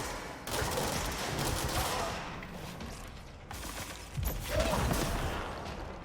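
Distant, muffled gunfire and rocket blasts from the Control game roll on steadily in two swelling waves, somewhat faint and unbroken.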